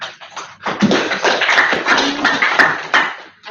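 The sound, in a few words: audience clapping at a meetup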